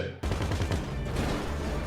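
A launcher weapon fires in a video game, a loud, dense barrage of blasts that bursts in after a brief quiet and keeps going without a break.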